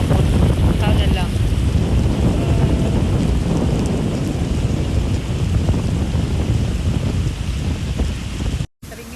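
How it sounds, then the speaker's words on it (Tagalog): Heavy rain pours down loudly and steadily, a dense close roar with gusty wind buffeting the microphone, continuous throughout before a brief dropout near the end. "Kusog kayong ulan."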